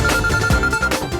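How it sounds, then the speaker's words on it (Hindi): A phone rings with an incoming call in a Hindi TV drama scene, a loud, continuous electronic ringtone melody heard close and alone for about a second. "एक मिनट, एक और कॉल आ रहा है।"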